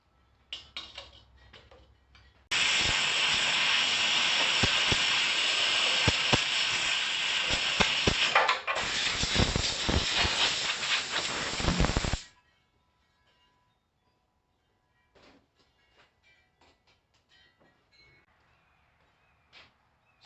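Compressed air blasting into the oiled cylinder of a junkyard motorbike engine during a rebuild: one loud, sustained hiss lasting about ten seconds with a brief dip, framed by a few faint clicks before and after.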